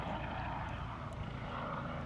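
A steady, loud rotor-and-engine drone fills the air, a helicopter passing overhead with no pauses and no voices.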